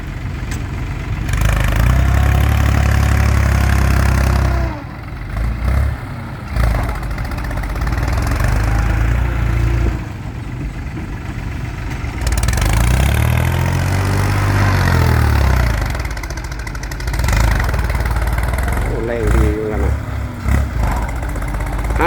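A three-cylinder engine hitched to a straw baler idles at a fishing pond, a loud, steady mid-pitched chugging that runs for the whole stretch with small dips and a brief pitch sweep midway.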